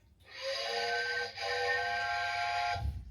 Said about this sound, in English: The train sounds like